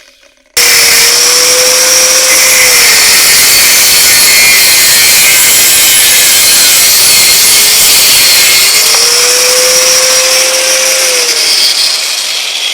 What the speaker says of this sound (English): That's what pegs look like when they grind.